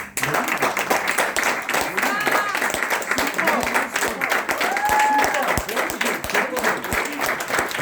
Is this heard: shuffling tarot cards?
no